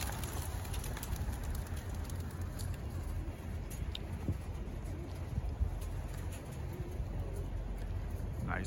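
A released flock of racing pigeons takes off outdoors, with faint wingbeats and soft coos over a steady low rumble of background noise.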